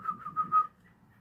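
A person whistles a few short, wavering notes in quick succession, close and soft, and then trails off into quiet.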